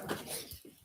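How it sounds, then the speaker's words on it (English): A dog gives a brief, faint whimper indoors, a short soft whine lasting under a second with a little rustling around it. "What is wrong with this dog?"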